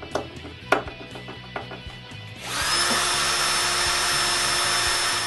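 A cabinet door is screwed on in a woodworking shop, with a few light taps and clicks at first before a power driver starts up and whirs steadily and loudly to the end.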